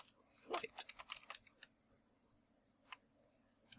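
Fingers on a computer keyboard tap out a quick burst of crisp clicks, a pause, then a single stray keystroke, faint and close in a quiet room.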